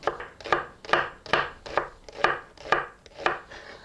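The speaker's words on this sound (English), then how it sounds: "Make parallel cut to the striations of the onion." A knife slices through an onion on a cutting board in even parallel cuts, about eight crisp, close chops in a steady rhythm with nothing else around them.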